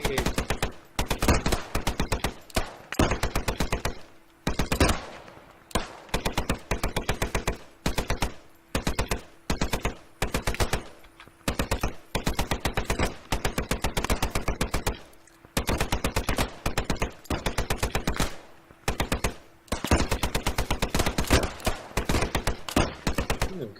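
Machine gun fire in a video game: rapid, loud bursts repeat one after another with short gaps between them, and a steady low hum runs underneath.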